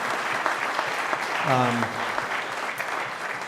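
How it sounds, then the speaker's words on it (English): Audience applause for John, a designer, breaks out as a steady, dense wash of clapping that runs the whole time, with a voice rising briefly over it partway through. "I think we should give John a big round of applause for that"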